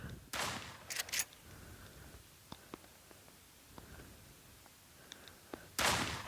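Video game gunfire comes as short, loud bursts at the start and end, with scattered lighter clicks and pops in between.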